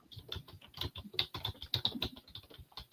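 Quiet, steady typing on a computer keyboard, a rapid run of soft key clicks close by with no voices.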